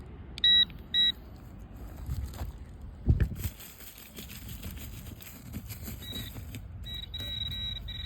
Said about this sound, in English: Let's see what we got in here with the pinpointer.